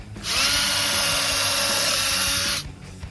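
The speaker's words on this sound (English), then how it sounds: "I'm going to take my drill with an 1/8 inch drill bit, pre-drill through the leg." A power drill with a 1/8 inch bit whines steadily at high speed for about two seconds, pre-drilling through a wooden picnic table leg, close and loud, then cuts off abruptly.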